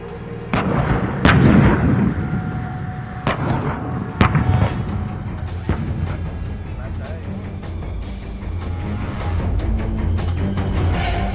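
A T-90 tank's gun fires during an army exercise, with several heavy booming blasts and a rumbling, noisy background of vehicles and activity throughout.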